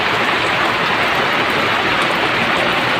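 A downpour drums continuously on surfaces near an open-air village cooking spot, thick and close, with an even wash of rainfall and no one speaking.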